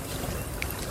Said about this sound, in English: you can probably hear waves lapping around my feet